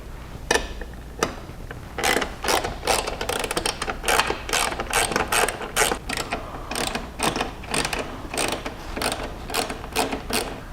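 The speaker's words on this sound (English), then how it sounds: "Now we'll move into pulling 3 bolts off of the main pivot bracket." A ratchet wrench backing bolts out of the main pivot bracket of a Jeep JL Trektop Ultra top, with loud close bursts of rapid clicking separated by short pauses, and no talking.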